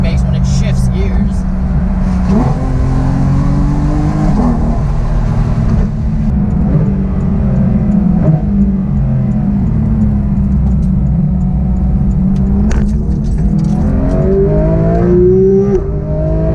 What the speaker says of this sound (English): even at low RPMs, I love that sound it makes when it shifts gears.